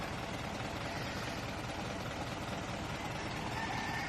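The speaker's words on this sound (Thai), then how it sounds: "นี่นะครับ เสียงเครื่องยนต์นะครับนิ่มมากนะะ" A car engine idles smoothly and steadily, a low, even rumble running without change throughout.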